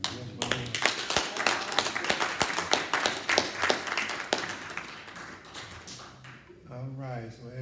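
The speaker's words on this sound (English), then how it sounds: "So a big hand of applause to everybody." Scattered clapping from a small audience at a community event for ex-offenders, sharp individual claps close by that thin out toward the end, where a voice speaks briefly.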